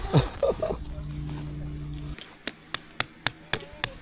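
Tent stakes are hammered at a campsite, about eight sharp evenly spaced metallic strikes following a stretch of voices and a steady hum, with people talking nearby.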